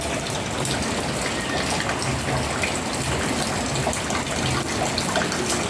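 Heavy, steady rain pours down in Quezon City during the Philippine rainy season, a dense, unbroken wash of noise that stays loud and close throughout, with no talk over it.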